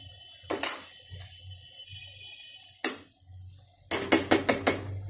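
A spoon stirs cooked potatoes in a pot: sparse metallic clinks and scrapes come first, then a quick run of five knocks near the end, all close over a quiet low hum.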